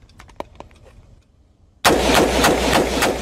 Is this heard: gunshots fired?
yes